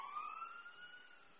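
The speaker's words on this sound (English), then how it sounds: "I'm going to wait till that siren goes by." A distant emergency-vehicle siren passes outside, a faint, steady wailing tone that slowly glides in pitch throughout and is heard alone without talk.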